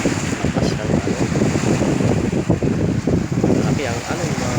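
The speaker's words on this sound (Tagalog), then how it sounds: "Lakas ng alon" Strong, rough sea waves surge continuously along the Dammam Corniche shoreline during fishing, a loud broadband wash with gusty wind buffeting the microphone and someone talking over it throughout.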